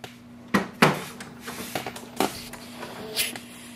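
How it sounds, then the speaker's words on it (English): Someone closes the ink chamber on an Epson WorkForce WF-7310 printer, producing several sharp plastic clicks and snaps with softer rubbing between them, close up over a faint steady hum. "Close this chamber."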